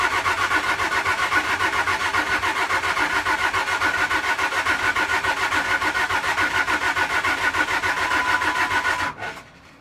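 Car engine cranking hard on its starter for about nine seconds without firing, a loud, fast, even rhythmic churn that stops abruptly.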